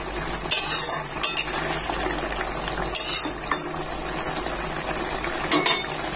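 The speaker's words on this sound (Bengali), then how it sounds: "একটু নাড়িয়ে দিই।" A spoon stirs a pot of taro stem curry with puti fish and shrimp, bursts of scraping and metallic clinks over a low simmering sizzle, close by and without speech.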